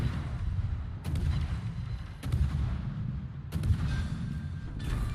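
Heavy naval guns in World of Warships fire in four deep booming salvos roughly a second or more apart, each blast rolling into a low rumble, with no talking.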